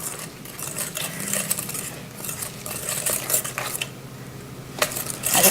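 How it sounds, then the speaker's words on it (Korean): Maple pancake mix batter is whisked in a bowl, with quick scraping and clinking of the utensil against the sides in an uneven rhythm, close and fairly loud. "이 안에 가루가 안 보일 정도까지 섞어주세요"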